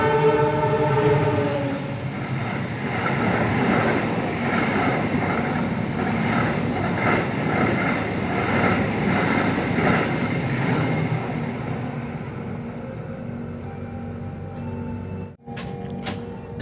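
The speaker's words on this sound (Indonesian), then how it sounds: "KA Singasari kembali diberangkatkan dari stasiun Kerawang jam 22:09" The KA Singasari economy premium passenger train departing Karawang station at night, with a loud steady rumble of rolling railcars and wheels on track and a sustained horn near the start, before the noise fades and cuts out abruptly near the end.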